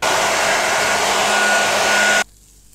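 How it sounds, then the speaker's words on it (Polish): A hair dryer blows steadily and loudly at close range while finishing off curled locks of hair, running continuously for about two seconds before switching off abruptly, with no talking. "I tak zawinięte włosy dosuszę suszarką"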